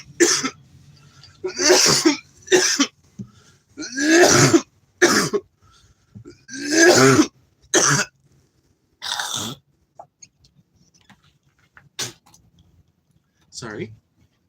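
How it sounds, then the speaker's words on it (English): A man clears his throat with a series of harsh, close hacking bursts and coughs, each separated by short pauses, tapering to a few fainter clicks and rasps at the end. "that was necessary to clear my throat"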